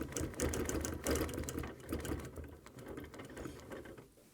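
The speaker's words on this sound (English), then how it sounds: "I'm going to be able to stitch and stop right on that line" A sewing machine stitches a quilted wall hanging in close, rapid mechanical chattering bursts, pausing briefly between runs and fading down at the end.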